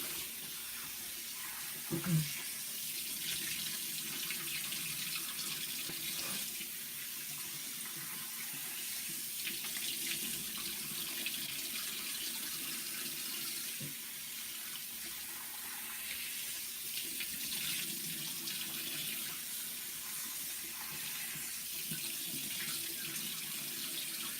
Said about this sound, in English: now I'm going to rinse